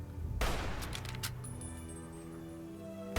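Gunfire in the video game Fallout: New Vegas, a sharp loud blast followed by a few quick cracks and a ringing decaying tail, heard alone without talk.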